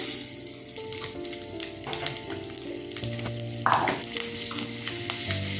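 Fesha fish frying with green chili and black cumin sizzles loudly and close, with repeated utensil scrapes and knocks from stirring and a low steady hum underneath.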